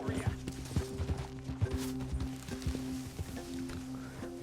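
Horse hooves clip-clopping at a walk in Red Dead Redemption 2, a steady, fairly close rhythm over a layer of game music and ambience.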